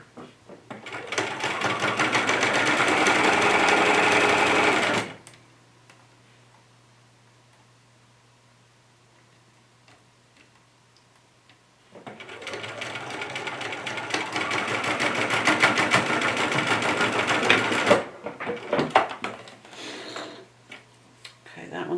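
A sewing machine stitches in two close, steady runs of rapid mechanical ticking, the first about five seconds long and the second about six, with a near-silent pause between them and faint handling sounds afterward.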